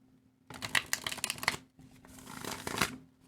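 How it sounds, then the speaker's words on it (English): Tarot cards riffle-shuffled close up in two quick bursts, a crisp flurry of fluttering card snaps, a brief pause, then a second shuffle, with a faint steady hum underneath. "And let's shuffle one more time."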